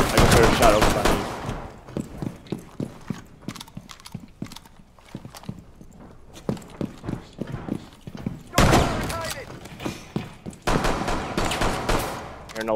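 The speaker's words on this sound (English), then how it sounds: "Hearing a lot of gunfire." Gunfire in the tactical shooter game Rainbow Six Siege, a spread of sharp shots and short bursts, some close and loud, others fainter, scattered through the stretch with denser volleys near the end.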